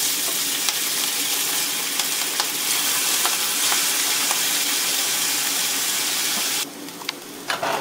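Noodles fry in peanut oil in a pan preheated over medium-high heat, giving a loud, steady crackling sizzle with scattered pops throughout. The sizzle then drops abruptly near the end.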